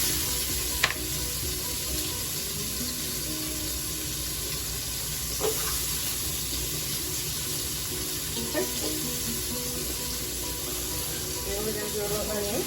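Bacon and garlic fry in a pan, a steady bright sizzle and hiss running the whole time, with a few soft clicks from a utensil stirring and a voice talking over it now and then.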